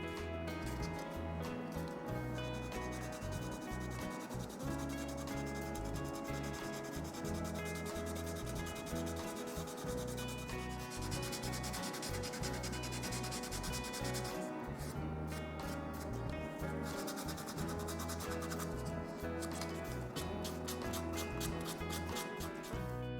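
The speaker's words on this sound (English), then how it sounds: "Now I start with a 400 grit sanding sponge." A 400 grit sanding sponge rubbed over the fuselage of a Hasegawa 1/48 A6M2b Zero model plane, with continuous close scratchy back-and-forth strokes, quiet and steady with no talking.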